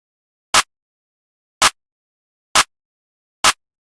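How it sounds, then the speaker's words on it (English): Clap sample from the Shade Deconstructed drum kit, heard alone as four sharp, bright claps spaced about a second apart, dry and close. "Then I did this clap. It's from the Shade Deconstructed kit."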